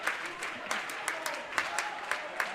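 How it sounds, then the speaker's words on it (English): Crowd applause and scattered clapping in a high school gym during a girls' volleyball match, steady mid-level hand claps with sharper individual claps popping out, with voices in the background. "Clapping going on"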